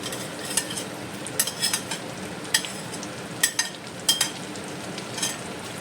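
Onions frying in a pan, a steady close sizzle broken by repeated sharp scrapes and clinks of a spoon stirring against the metal.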